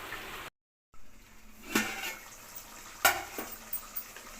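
Water splashes into a pot of simmering chicken biryani with the chicken already cooked, a soft steady pour broken by a few sharp clinks of metal near the end.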